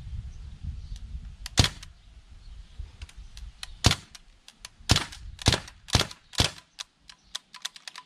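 A Crosman Bushmaster MPW 4.5 mm BB carbine fires a string of sharp, snappy shots, some single and some in quick bursts on full auto, loud and close over a faint low hum with no talking.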